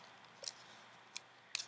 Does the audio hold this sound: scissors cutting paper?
yes